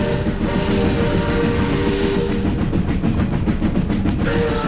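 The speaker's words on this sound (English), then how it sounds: "a train roared out of the tunnel" A train roars out of a tunnel, a loud, continuous rumble and rush of wheels on rails that stays close and heavy throughout with no voices.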